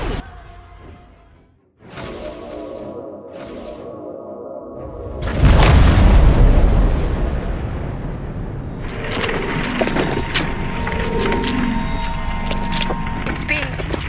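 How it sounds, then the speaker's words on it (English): A protomatter detonation from the Star Trek Online game bursts as a loud, deep boom mid-clip, followed by a rumbling, crackling aftermath, with voices speaking before and after. "Borg cube to detonate the protomatter"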